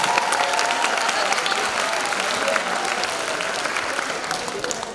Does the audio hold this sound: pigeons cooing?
no